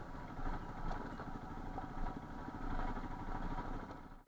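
A Royal Enfield Himalayan motorcycle rides along an off-road track, its engine a steady, close, mid-pitched thrum with rough chugging texture running throughout and no voices.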